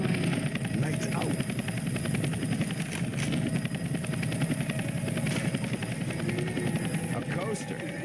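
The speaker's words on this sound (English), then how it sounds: "There's a chopper." A helicopter's steady rotor thrum fills Left 4 Dead's Dark Carnival level, a continuous loud chopping drone with game clatter and character voices over it.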